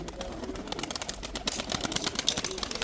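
Racing pigeons coo softly in a loft, with low, faint, repeated coos and scattered chirps over light background noise and a trace of distant talk.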